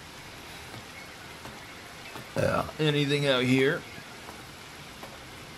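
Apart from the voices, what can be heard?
rain falling in a video game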